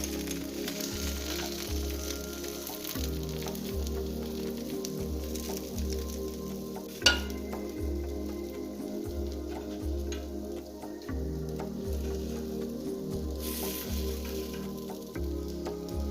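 Kanom krok batter sizzles steadily in a pan, giving a soft, continuous frying hiss alongside a regular ticking pulse and one sharp click partway through; no one speaks.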